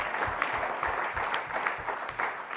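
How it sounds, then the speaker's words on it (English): An audience at an innovation fellowship pitch event gives a round of applause, a steady wash of many hands clapping, moderately loud and continuous for a few seconds, with no talk. "I think we need a huge round of applause"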